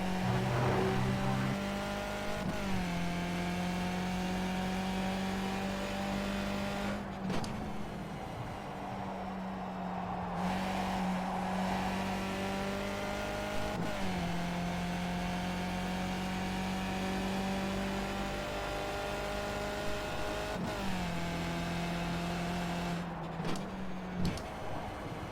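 A Skip Barber race car engine at Brands Hatch in iRacing drones and revs in long pulls, its pitch climbing through each gear and dropping sharply on shifts and braking. Loud and steady throughout, with no talk.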